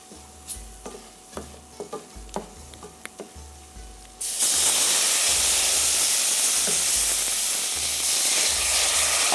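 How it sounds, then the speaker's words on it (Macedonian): Water poured into a hot pan holding red pepper: first a few light stirring clinks and scrapes, then a sudden loud burst of steamy sizzling that keeps hissing strongly to the end. "Ете така, и почнувам да налевам вода"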